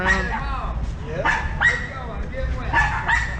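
Dogs owned by homeless people bark and yip on Pismo Beach at night, several sharp barks in an uneven run at moderate distance. Faint voices and soft ambient noise sit underneath.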